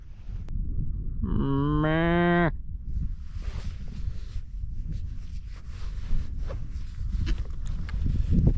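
A cow gives one loud, close moo early on, a rising then steady harmonic call lasting about a second, followed by outdoor wind and soft rustling on a farm.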